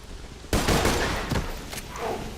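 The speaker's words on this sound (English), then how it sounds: "Pacifying terror is the burst fire." Burst fire from the Pacifying Terror gun in Borderlands 2: a loud, close volley of rapid shots starts abruptly, followed by a second burst and a tail of echoing reports, with no talk.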